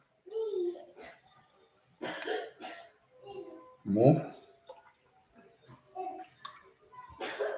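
Water is poured out of a shake container in a few short splashing bursts, mixed with nearby casual talk and a cough.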